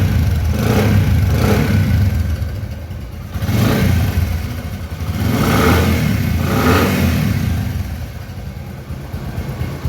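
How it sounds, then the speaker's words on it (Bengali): A 2018 Bajaj CT 100 motorcycle engine runs in neutral close by, a steady mid-pitched putter repeatedly swelling with several throttle blips before dropping back toward idle. "নিউট্রাল অবস্থায় গাড়ির সাউন্ড খুব সুন্দর অবস্থায় রয়েছে।"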